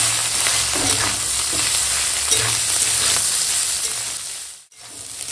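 Ginger-cumin paste frying with bitter gourd pieces in an open pan, a continuous close sizzle with soft stirring scrapes in a loose rhythm, briefly dropping near the end, with no speech.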